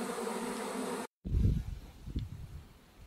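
A bee swarm being poured into a hive down a ramp gives off a faint, low buzzing hum. It stops for a moment, then returns with soft, muffled rustling bumps.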